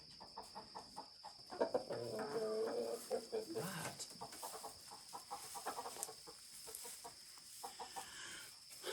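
Chickens cluck and murmur in a quiet, busy stream, with a few sharper squawks, over a faint steady hum.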